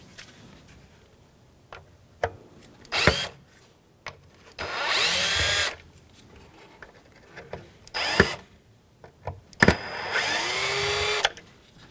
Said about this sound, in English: We're going to take out these 4 Phillips screws.